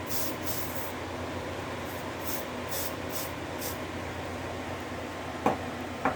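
Aerosol test smoke hisses from a can into a fire alarm smoke detector in short repeated bursts over a steady background hum, followed near the end by a couple of faint clicks.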